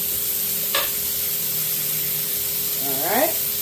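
Real butter sizzling as it melts in a hot HexClad frying pan, a steady broadband hiss that runs through the moment with a brief utensil scrape and a short voice near the end.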